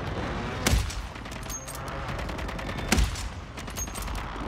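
Gunfire rattles in the video game Warzone, with rapid SMG bursts and two louder, sharper shots standing out over a constant noisy background.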